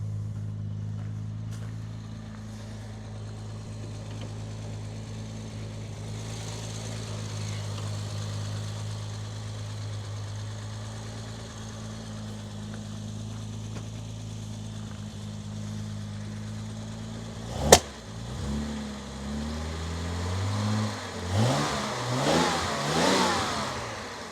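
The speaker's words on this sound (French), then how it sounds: "Et le bruit rauque" A 1964 Jaguar E-Type convertible with a 3.8 litre engine idles cold with a steady, gruff hum, then a sharp pop, then several rising and falling revs near the end.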